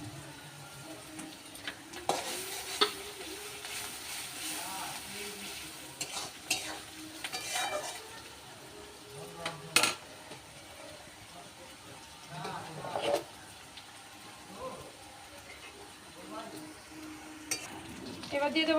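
Garlic paste sizzling in hot oil with onions, stirred repeatedly with scrapes and clinks of a spoon against the pan, close by and steady, while a voice talks intermittently over it.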